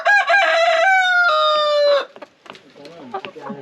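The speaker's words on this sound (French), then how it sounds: "Il y a un coq." A rooster crows loudly and close by in one long harmonic call lasting about two seconds, followed by softer clucking and scattered farmyard noises.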